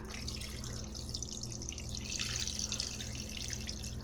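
Water poured into a Thermomix bowl while cooking a chicken étouffée, a steady quiet trickle and splash over a constant low machine hum, with no talking.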